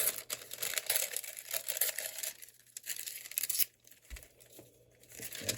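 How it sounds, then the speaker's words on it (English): Craft paper torn by hand in a series of close, crisp ripping strokes, with soft crinkling and rustling between tears and a light thump near the end. "I think I'm gonna tear some of them."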